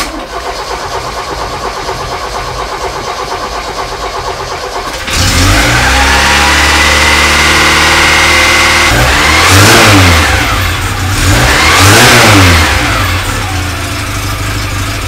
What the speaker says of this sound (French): Déjà, le moteur tourne.